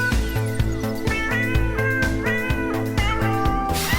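A jazz tune with cat meows worked into the music, steady rhythmic backing with bass and drums and bright melodic lines running continuously and fairly loud throughout.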